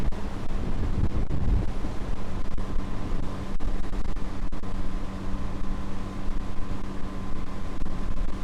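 Constant wind buffeting the microphone while riding a Yamaha MT-09 motorcycle, a low rumbling roar with gusty fluctuations throughout.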